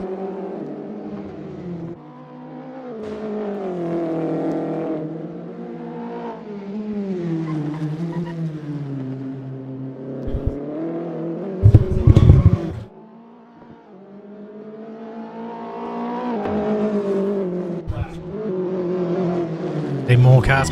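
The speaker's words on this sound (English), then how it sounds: "There are more cars coming in." Mini Cooper race cars in an enduro roll into the pits, engines droning and revving steadily with occasional sharper bursts as cars pass close, a commentator talking continuously over the engine noise.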